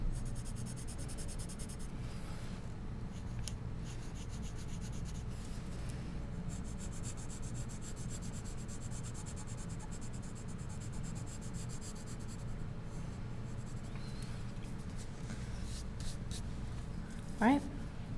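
Soft scratchy rubbing of white charcoal shading and burnishing on paper, a steady faint rasp running throughout under a quiet spoken voice.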